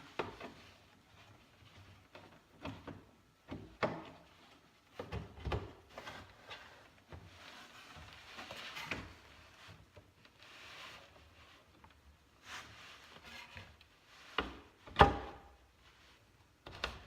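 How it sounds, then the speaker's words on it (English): Full-extension cabinet drawers on a miter saw station are slid and set into place, giving scattered wooden knocks, scrapes and soft bumps at close range that are mostly quiet, with no voices present. "I just go ahead and place the drawer in here."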